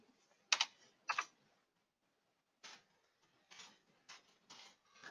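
Password being typed on a computer keyboard while setting up email alarm notification for a Shark 200 meter: a few quick clusters of key clicks separated by pauses, close and fairly quiet in a silent room.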